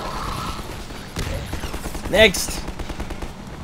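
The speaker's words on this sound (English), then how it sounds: "Just to use the machine gun on him." Machine gun fire during Half-Life 2 gameplay in Nova Prospekt, heard as rapid clattering bursts mixed with game effects, with a player briefly shouting over it.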